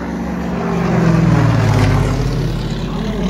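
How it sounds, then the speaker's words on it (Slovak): A Soviet reconnaissance plane's propeller engine drones steadily overhead, a loud continuous low rumble that swells slightly in the middle and holds throughout. "Vo vzduchu sa nám objavilo sovietské prieskumné lietadlo."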